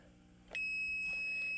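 A DSC Impassa alarm system gives a single sharp test beep that then holds as a steady high electronic tone, loud and close in a quiet room.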